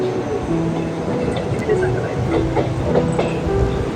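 A train between Thrissur and Thiruvananthapuram, Kerala, rumbles along steadily with rhythmic clacking of the rails, a continuous moving-carriage drone throughout.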